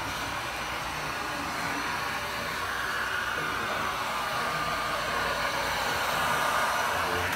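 Heat gun blowing steadily over wet resin to push and blend the colours, giving a continuous close airy roar with a hissing edge that holds level throughout and swells slightly toward the end, with no talk.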